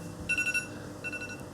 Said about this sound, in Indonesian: Alarm HP ku ya